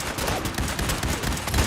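Dense rapid gunfire from a battle in Fallout 4's Far Harbor expansion, a continuous crackling volley of overlapping shots at steady loudness with no speech.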